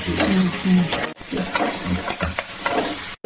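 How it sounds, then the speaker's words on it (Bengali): Boiled eggplant and potato frying in a pan, a steady broadband sizzle with scraping stir strokes and a brief break partway through, close and fairly loud with no talk. "কিন্তু সিদ্ধ করা বেগুনটা আর আলুটা ভাজতে দিয়ে দিচ্ছি"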